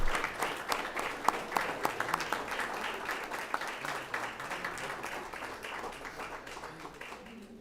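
A school board meeting audience in Weslaco gives staff a sustained round of applause. Dense, even clapping starts strong and fades gradually over several seconds.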